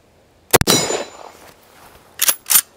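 A Ruger Mini 14 rifle fires 5.56 NATO rounds at a range, a loud close crack followed by a ringing clang off a steel plate, then two more sharp metallic hits in quick succession, with no talk.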